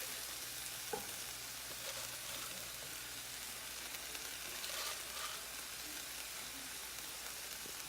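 Fettuccine and fresh spinach coated in cream are stirred in a pan, with a faint steady sizzle and soft scraping as the greens wilt, quiet and close with no voices.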